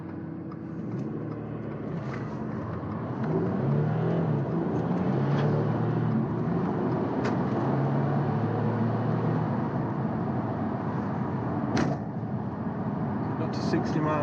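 A remapped Audi A5 3.0 TDI quattro diesel, tuned to about 300 bhp and 500 lb-ft, pulls hard from a standstill toward 60 mph, its engine drone and road noise steady and loud from inside the cabin, with brief clicks over the top.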